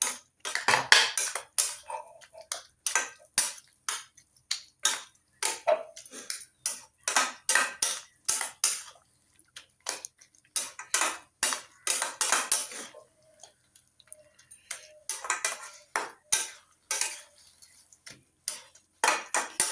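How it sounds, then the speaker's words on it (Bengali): A spoon clinks and scrapes against a pan while eggplant bharta is mixed with chopped coriander leaves, giving a steady run of sharp metallic taps in bursts, close and moderately quiet, with no talking. "ধনেপাতা দিয়ে আমি একটু এভাবে আবার মিশিয়ে দেবো"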